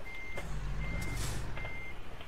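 Truck in American Truck Simulator giving off a steady series of reversing beeps over a low engine rumble, each beep short and evenly spaced, sounding alone.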